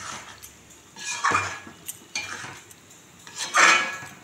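Coconut milk poured into a pan of malai chicken curry with ground poppy seed paste, with a few close metallic clanks of spoon and pan and soft splashy stirring, no talk.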